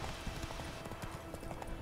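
Hoofbeats of a horse galloping in The Witcher 3: Wild Hunt, a steady rapid clip-clop rhythm running throughout at moderate level, close by, with no talk over it.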